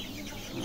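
Chickens on a village poultry farm cluck briefly at close range, a short murmur of fowl sounds.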